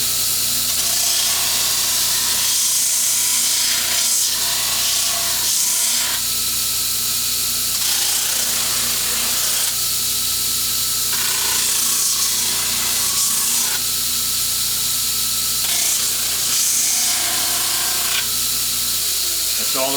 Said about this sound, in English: I generally go around the circumference of the guitar body just to give it a nice even finish on my great big 3-inch pneumatic 1 horsepower drum sander